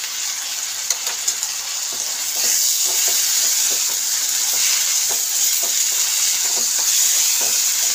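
Chopped onion with ginger-garlic paste sizzles steadily in a pan, a bright continuous frying hiss that swells slightly partway through, with soft scraping stir strokes scattered throughout, close and without speech.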